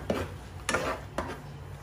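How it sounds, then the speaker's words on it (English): A utensil scrapes and knocks against a pan while cooked beef masala with coriander garnish is stirred, three distinct clinks spaced about half a second apart, moderately close, with no voices. "Then I'm gonna mix it."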